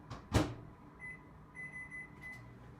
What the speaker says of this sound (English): a bit of microwave